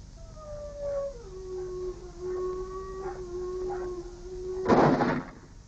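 A wolf howls in a long, falling, sustained tone, distant and fairly faint, ending with a short louder noisy burst, in a Kazakh film scene.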